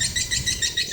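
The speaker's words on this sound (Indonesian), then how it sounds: "Di sini kita pakai suara indukan menggunakan tweeter magnet ya" Swiftlet mother-bird call lure played through a magnet tweeter in a new 5x12 metre three-storey swiftlet house, a loud, steady run of high chirping pulses repeating in quick rhythmic bursts, close and alone.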